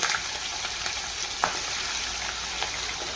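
Chicken pieces fry in hot oil in a pan, a constant crackling sizzle with occasional sharper pops and scrapes, close and steady without talk.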